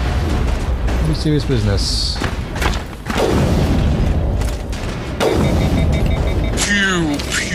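Rockets blasting in the Mass Effect sci-fi shooter on a hellish planet, heavy thuds and booms repeating amid gunfire and sci-fi effects, with someone talking over the loud combat.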